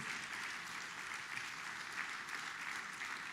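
A church congregation applauds during a Spanish-language sermon, an even, sustained patter of many hands clapping, heard somewhat distantly and at low level.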